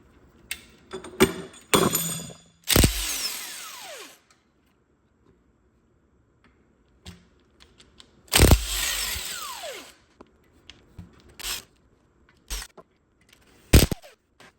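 Power tool or impact gun spinning out T50 Torx bolts from a Porsche Cayman S 987 transmission plate during an engine teardown, in several separate loud bursts with whirring wind-down tails and scattered clanks of tools and parts between them.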